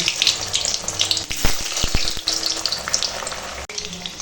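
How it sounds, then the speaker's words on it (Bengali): Potatoes fry in hot oil for a mutton curry, giving a loud, close, bubbling sizzle with a few sharp clatters partway through. "এখন তেল গরম হয়ে গেছে আলু ভেজে নেব"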